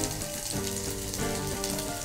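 Dried red chillies fry in hot oil for veg biryani, giving a steady, close sizzle that runs the whole time with no voices over it.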